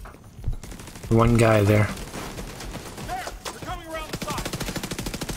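A turret firing in The Division 2, with a fast, steady rattle of automatic shots building toward the end beneath someone talking and a brief loud electronic tone.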